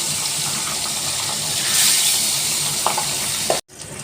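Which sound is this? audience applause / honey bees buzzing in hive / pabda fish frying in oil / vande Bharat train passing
pabda fish frying in oil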